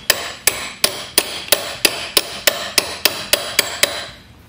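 Steady metal-on-metal hammer blows on a socket driving a transmission axle seal into its recess, about twelve evenly spaced sharp strikes, close and clear, with no talking.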